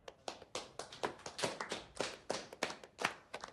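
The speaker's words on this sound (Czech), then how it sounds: "Nějaký potlesk, ne?" Small audience giving a brief round of applause, a handful of distinct, fairly quiet hand claps in an uneven rhythm, close by and with no talking.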